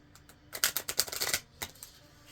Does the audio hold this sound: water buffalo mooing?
no